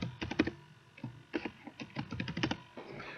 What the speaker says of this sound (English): Now I'm going to put my password in.